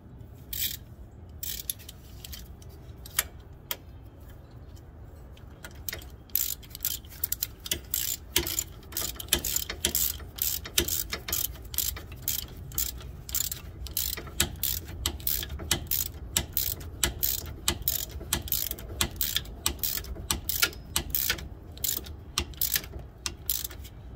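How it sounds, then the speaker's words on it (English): A hand ratchet with a 13mm socket clicks steadily while working on a 2007 Buick Rendezvous during a front wheel bearing replacement. The rapid pawl ticks come in long, even runs, close and loud, with no speech. "A 13mm socket."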